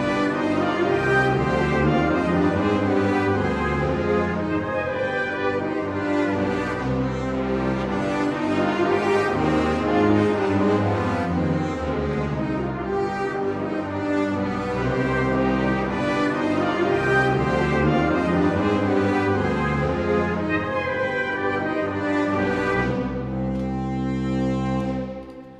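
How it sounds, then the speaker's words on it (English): An orchestral sample-library brass ensemble of trumpets, horns, trombones and tuba plays legato patches, swelling chords and moving lines sustained for the whole stretch, full and close with no talking. "So that what you're hearing there is trumpets,"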